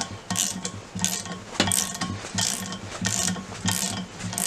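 A ratchet wrench with a 9/16 socket clicks in repeated bursts on a Land Rover Discovery 300 TDI front wheel, loud and close, with short pauses between strokes and no talk.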